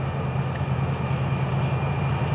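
Florida East Coast train FEC210 rolling past at sunrise, a loud, steady rumble with a droning low hum and continuous rail noise throughout, no voices.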